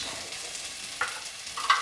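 Chopped onions or shallots in canola oil for risotto, giving a soft steady sizzle with a couple of short stirring scrapes near the end, close and without talk.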